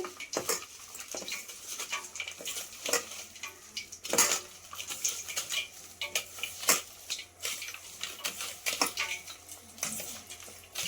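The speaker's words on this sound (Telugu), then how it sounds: "ఇప్పుడు ఇవన్నీ బాగా కలుపుకుందామండి. ముందు ఇవన్నీ బాగా మిక్స్ చేసుకోవాలి." Cashew pakoda batter is mixed by hand in a metal bowl with salt and ginger-garlic paste, giving repeated close scraping and clinking strokes in an irregular rhythm, with no talk.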